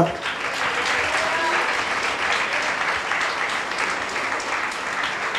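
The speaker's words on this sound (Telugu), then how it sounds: "ఒకసారి చప్పట్లు కొడితే ఏమైందంట" A church congregation at an IPC Heavens Ministries service in Tenali claps in a dense, continuous burst. The applause stays loud and even for several seconds, with voices faintly mixed in.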